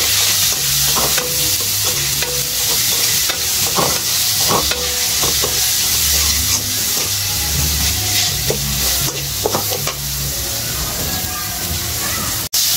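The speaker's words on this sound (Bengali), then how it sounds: "দিয়ে দিবে একটু মরিচের গুঁড়া, এগুলোকে সুন্দর করে কষাইতে হবে।" Fish curry spices with chili powder are sautéed for a rupchanda fish jhol, giving a loud, continuous sizzle close by with stirring scrapes, and a voice talks over it.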